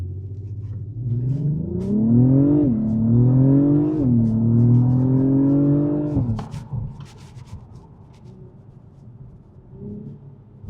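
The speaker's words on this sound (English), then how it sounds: "We'll do a launch control in Sport Plus." A car engine revs hard through a launch, its pitch climbing in surges as the gears shift up, then cutting off sharply and falling to a low idle.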